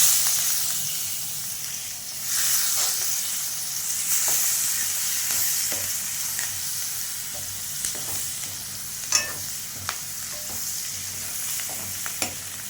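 Onions, curry leaves, crushed garlic and a dried red chili fry in hot oil for a fish dish, giving a steady close sizzle. Sharp scraping clicks from stirring break through now and then.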